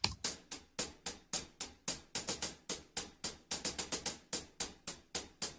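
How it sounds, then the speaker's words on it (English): A programmed hi-hat drum loop ticks out crisp, sharp strikes in a steady repeating pattern, with occasional quick doubled hits, heard alone and clearly. "the hi-hat sounds like this"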